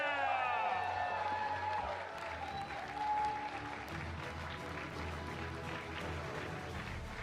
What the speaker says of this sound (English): please show your appreciation, clap your hands, scream as loud as you can for Ili Vepierre!